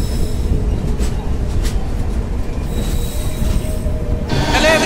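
The Northeast Express, hauled by a WAP7 electric locomotive in Amrit Bharat livery, arrives with a loud, continuous rumble of rolling wheels and a rising squeal of brakes toward the end.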